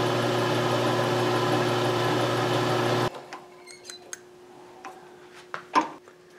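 A Sherline mini milling machine drills a 1/16-inch hole in a small brass part for a homemade mini steam engine's connecting rod. A steady, loud motor whine runs for about three seconds, then cuts off, leaving quiet scattered clicks and taps.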